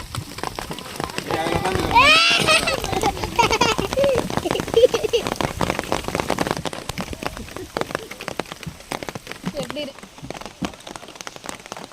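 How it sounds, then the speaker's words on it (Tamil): Light drizzle patters on surfaces outdoors near a hanging bridge in Kattapana, Kerala, a dense crackle of fine drops throughout, while a voice sings and talks over it close up in the first half. "ஏ மழை தூருது."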